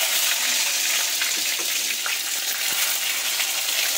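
Tomatoes frying in hot oil with bay leaves and five-spice in a pan, a steady broad sizzle throughout, close and even, with no talking.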